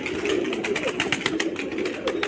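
A pigeon handled close by coos in soft, low murmuring bursts amid rustling and fluttering, with faint background noise.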